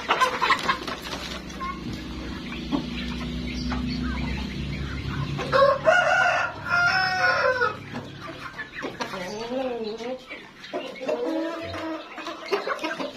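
Free-ranging chickens and a rooster in a poultry pen cluck steadily, with a loud rooster crow and wavering hen calls mid-way, close by, under faint talking.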